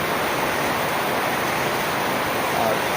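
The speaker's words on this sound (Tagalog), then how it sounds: "Malakas na naman ang ulan" Heavy rain pours down steadily in a dense, continuous hiss that stays loud and even throughout, with no voices heard.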